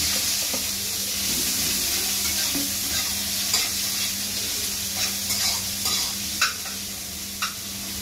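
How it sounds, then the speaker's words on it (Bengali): Onion fries in a pan with a dense, continuous sizzle and hiss while a utensil stirs it, scraping now and then with a few light clinks, close and steady throughout. "পেঁয়াজটা ভাজার সময় পেঁয়াজের মধ্যে অল্প করে হলুদ দিয়ে দেবো"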